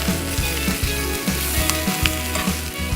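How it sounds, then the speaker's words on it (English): Steady, loud sizzling of onions frying in a hot cast iron pan, with crackling pops and occasional stirring clinks, no voices. "You hear that sizzle?"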